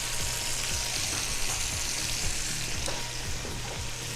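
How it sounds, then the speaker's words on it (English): Garlic and onion sizzle in a pot, a steady dense crackling fry with faint stirring scrapes, close and continuous with no talking. "we just want to get a little cook on the garlic and the onion, let them release their flavors"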